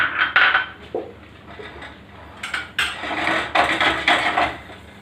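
Besan halwa being stirred and roasted in ghee in a pan, UP style, with a spoon or spatula scraping and clattering against the metal in irregular bursts, near and fairly loud.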